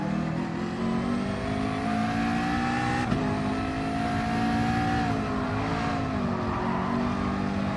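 Race car engine in GT Sport holding a steady high drone with shifting pitch, briefly dipping around a gear change, with faint tyre scrub under it while chasing an NSX through an opposite-lock slide; no talking.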